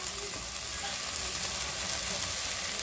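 Chicken frying in a pan with capsicum, French beans and cabbage for a Chinese samosa filling gives a loud, continuous close-up sizzle with a dense hiss and no pauses.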